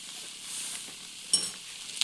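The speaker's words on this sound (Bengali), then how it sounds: "তো এরপর এটিকে আরও ভালো করে মিশিয়ে নেব, ভেজে নেব কিছুক্ষণ।" A spiced vegetable chop filling, with fried spice mix and a spoonful of sugar, is stirred and fried in a pan, giving a faint, steady sizzle with a few soft scraping stirs.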